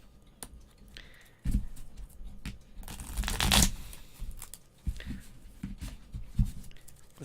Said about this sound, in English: let's go ahead and shuffle a couple more times